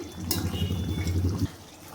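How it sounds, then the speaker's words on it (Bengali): Rui fish kalia curry broth bubbling in a pan, a close, dense burble of boiling liquid after one sharp clink, cutting off abruptly partway through and leaving quiet background. "মাছ দেওয়ার পরেও ভালোভাবে ঝোলটা ফুটে গেছে।"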